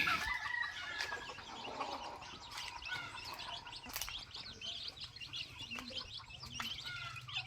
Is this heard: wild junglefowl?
yes